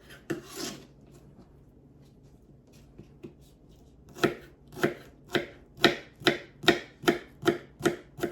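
Knife dicing food on a cutting board: a few scattered taps, then a steady rhythmic series of close, crisp chops growing louder and regular.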